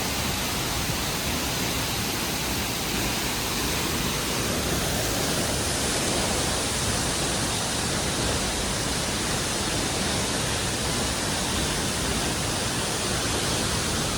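A large waterfall along a mountain trek to Rudranath roars as a dense, steady broadband rush of falling water, loud and unbroken throughout with no voices.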